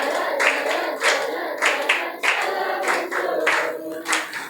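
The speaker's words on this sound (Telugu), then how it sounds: "చప్పట్లు కొడుతూ పాడదాం గట్టిగా," Congregation clapping hands in steady rhythmic bursts while singing together at a Telugu Christian worship gathering, loud and close, with voices running under the claps.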